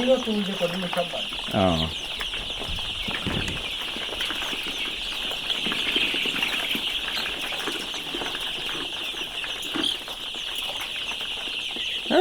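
Sonali chickens on a farm with a golpata-leaf roof cluck and call steadily, with wings flapping now and then and a constant high insect-like drone over the whole scene.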